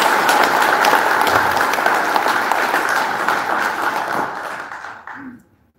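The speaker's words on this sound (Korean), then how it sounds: "뜻을 갖춘 힘찬 박수 부탁드립니다" An audience applauds loudly in a hall at the inauguration ceremony for the new president of the Korea Senior Citizens Association, with sustained dense clapping that thins and fades out at the end.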